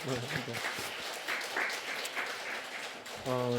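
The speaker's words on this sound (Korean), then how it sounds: "우리 한번 어디 계신지 몰라도 박수 한번 이렇게 보내볼까요?" A church congregation at a Sunday worship service breaks into scattered applause at low volume, soft clapping running under a pastor's voice, which continues speaking over it and rises again near the end.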